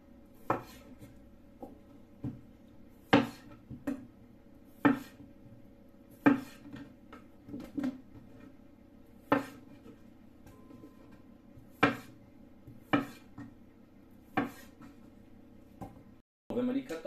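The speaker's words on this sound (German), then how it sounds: "Wenn wir die Kartoffeln alle geschnitten haben" Sharp knife strokes through potatoes being cut into wedges on a board, about a dozen separate chops spaced a second or so apart, each with a clear thud and a short clatter, over a steady kitchen hum.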